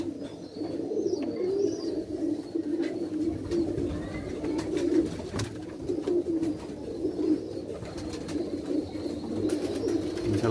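Pigeons coo softly and repeatedly close by, low throaty murmurs overlapping against a quiet background with occasional light rustling.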